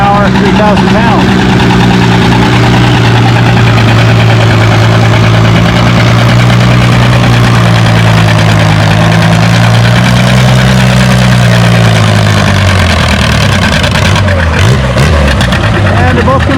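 John Deere 730 diesel tractor at a tractor pull, its engine running loud and close with a steady low throb that shifts in pitch near the end, with a commentator talking over it.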